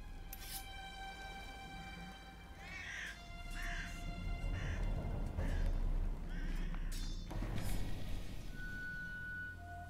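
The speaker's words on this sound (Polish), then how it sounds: "Ptaki!" Crows cawing in The Witcher video game, repeated harsh calls over a steady ambient bed with hoofbeat-like clatter, fairly close and continuous.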